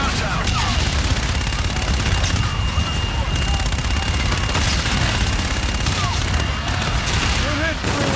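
Dense, loud gunfire and booming explosions rage continuously through a Call of Duty: Infinite Warfare battle, with rapid bursts layered over a heavy rumbling bed.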